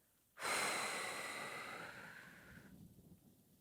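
A single long, forceful exhale blown out through the mouth during a yoga breathing exercise, close and breathy, fading over about two seconds before a quiet pause.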